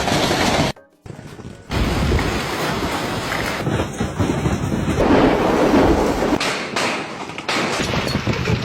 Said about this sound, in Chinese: 这么大的冰雹，你的头能接几个？